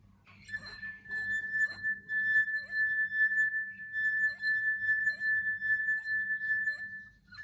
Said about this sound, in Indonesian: masukkan 3 ruas jari ke dalam gelas, lalu aduk perlahan, dan usapkan 3 jari ini ke ujung bibir gelas.